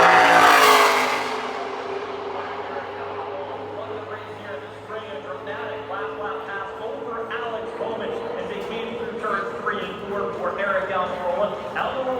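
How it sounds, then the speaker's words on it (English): A NASCAR Xfinity Series race car on a championship qualifying lap at Phoenix Raceway, its loud engine note sweeping past close at first, then a steady distant drone around the track, with commentators talking over it. "Eric Almirola on the racetrack right now"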